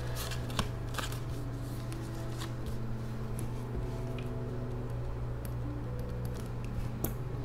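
Paper cash bills are handled and stuffed into envelopes with continuous crisp rustling and flicking, close and steady, over a low constant hum.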